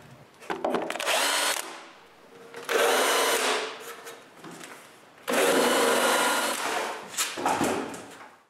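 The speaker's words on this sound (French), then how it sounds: "Pour aider les goujons, je chanfreine les trous." A power drill chamfers dowel holes in wood, whirring in three long bursts with short spin-ups and stops between them, close and fairly loud, no speech.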